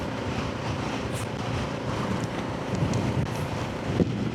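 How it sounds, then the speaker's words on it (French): Steady rushing wind roars over a microphone while riding a Kawasaki Z650 S motorcycle, a constant broadband buffeting of fast motion on an open road, with no talking. "il y a un petit peu de vent comme d'habitude"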